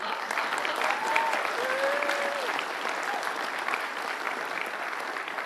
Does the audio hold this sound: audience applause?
yes